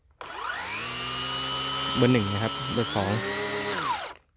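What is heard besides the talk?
Makita DUX60 power head motor speeding up then braking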